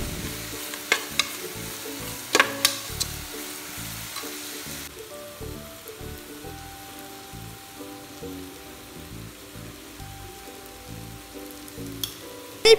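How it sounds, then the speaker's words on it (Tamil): Chicken roast sautéing with turmeric powder in a pan, a steady low sizzle with occasional sharp clicks of stirring, moderately quiet and close, no voices. "சிக்கன் ரோஸ்டில் மஞ்சள் பொடி போட்டு வதக்கவும்"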